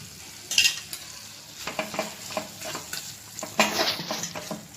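A spoon stirs curd into cooked vegetables for veg biryani in a sizzling pan, with repeated scraping strokes and clinks against the metal over a soft sizzle.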